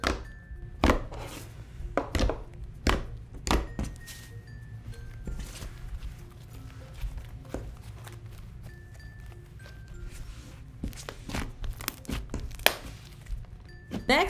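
Clay butter slime squished and poked by hand, giving repeated soft sticky thuds and crinkly pops at an irregular rhythm, close up and fairly quiet.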